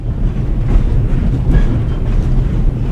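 A freight car rolls along a train line in Switzerland in The Raven Remastered video game, a loud, close, continuous low rumble with a faint mechanical rattle and no talk.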